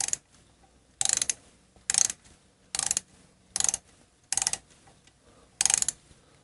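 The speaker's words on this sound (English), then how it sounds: "This ratchet's not really well broken in like the rest of them I use." A stiff, not yet broken-in ratchet tightens lifter block screws on a Shovelhead engine, clicking in six short, evenly spaced bursts of close, crisp ratcheting with quiet gaps between, and no talk.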